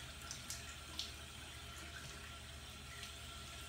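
Tap water running into a sink while a face is wetted, a faint, steady splashing flow with a few small splashes and knocks, no talking.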